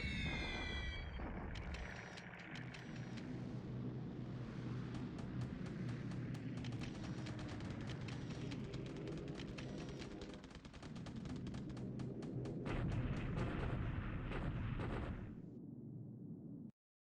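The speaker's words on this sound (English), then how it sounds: "Some allied bombings here." Allied bombing in the War in the Pacific strategy game: a dense, continuous barrage of synthetic explosions and crackling bursts, loud and steady, with a brief lull before a final heavy wave.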